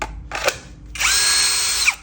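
A Makita cordless drill with a hammer function gives a brief whir, stops, then runs again in a steady high whine for about a second before winding down, loud and close with no talk.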